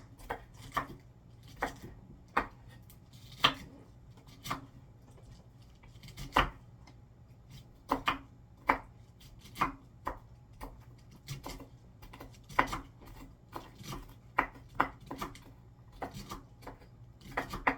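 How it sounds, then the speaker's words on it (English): A knife chops cabbage on a cutting board for homemade sauerkraut: sharp, close knocks come in uneven bursts and single strokes over a quiet kitchen background, with no one talking. "Try to gather it up in a little bunch and then start chopping."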